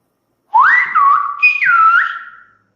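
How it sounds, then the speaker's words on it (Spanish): A single whistled greeting in Silbo Gomero, the whistled language of La Gomera, rising and gliding in two connected phrases, loud and close, with no talk. "directamente silbo uno de los tres"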